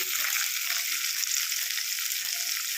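Green chilies and onion frying in hot oil with whole spices, a steady close sizzle and crackle running unbroken throughout.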